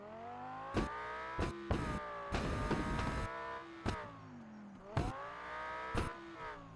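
A Lamborghini engine in a driving simulator game revs repeatedly, with rising harmonic sweeps broken by several sharp bursts and a longer roaring stretch, loud and close with no talk.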